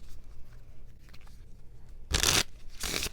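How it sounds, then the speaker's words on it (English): Two broad bursts of a deck of playing cards being shuffled during a tarot-style card game, each roughly a third of a second long, close by and fairly loud against a quiet room. "then we will shuffle and pick another card"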